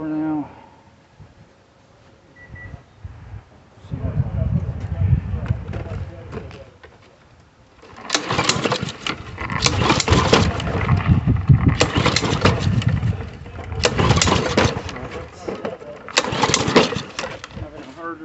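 Honda GCV160 lawn mower engine fitted with an inline fuel filter, cranking and struggling at first, then catching and running in uneven surging bursts, loud and nearby, with talk over parts of it.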